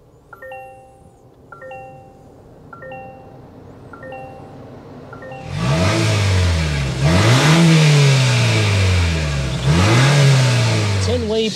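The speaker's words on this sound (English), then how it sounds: "start up this thing so you can hear that exhaust tone" Warning chimes ding repeatedly, then the engine of a 2024 Toyota Grand Highlander fires up and revs several times, the exhaust rising and falling in loud, close surges.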